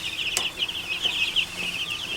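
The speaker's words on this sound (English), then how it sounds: "The chickens are now settled in a bit more." Young chickens peck at grass in a grower coop and give soft, intermittent clucks and chirps over a constant high hiss, fairly quiet and near.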